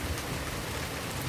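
Rain falling at night in summer, a steady even hiss of drops with no breaks, moderately loud and with no voices.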